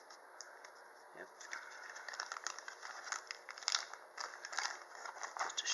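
A sheet of aluminium foil from a cheap survival kit is handled and crinkled up close, giving quiet, irregular crackling bursts.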